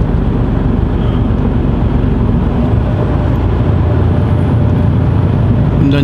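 Vehicle passing beneath a motorway, a steady loud road rumble with continuous tyre and engine noise throughout, no voices.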